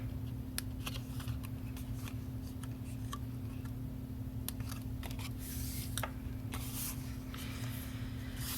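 Small scissors snip through paper in short, crisp cuts, scattered irregularly and close, over a low steady background hum.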